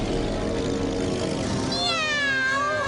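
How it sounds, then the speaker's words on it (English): A cartoon cat meowing, a drawn-out wavering meow rising over a dense, loud musical or noisy background near the end. "There it is again. It sounded just like a cat."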